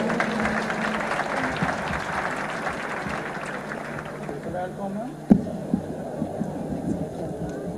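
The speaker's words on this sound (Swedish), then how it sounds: "En stor applåd för Birgitta Olsson" Audience applause greets a speaker at an Akitu New Year celebration, broad clapping that gradually thins and fades, with a sharp knock partway through and quiet room sounds after.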